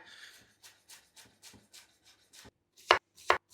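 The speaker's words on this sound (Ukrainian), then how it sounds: "можна нарізати дві цибульки і петрушку" A knife chops onion and parsley on a cutting board in soft, irregular strokes, ending with two louder, sharper chops.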